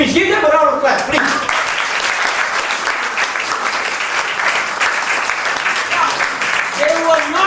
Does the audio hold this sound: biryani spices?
no